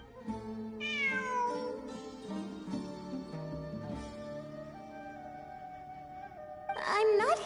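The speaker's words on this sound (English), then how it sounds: "I'm not hearing things. It really is a cat." A cat meows in the video game Genshin Impact, several clear drawn-out mews heard close over soft game music, with a sharper cry at the end.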